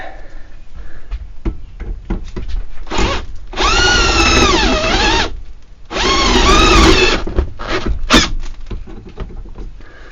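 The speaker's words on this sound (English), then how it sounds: "Drill bit's slipping in there." Power drill with a bit boring into a lock, whining in two long sustained bursts with rising and falling pitch, separated and surrounded by clicks, taps and handling noises close by.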